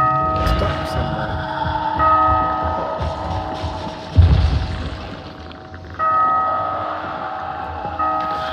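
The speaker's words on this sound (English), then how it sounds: "ringing that bell" A bell rings in a zombie video game, heard as sustained metallic tones that ring out, fade and return, mixed with mechanical clanks and a sharp thud, while players talk.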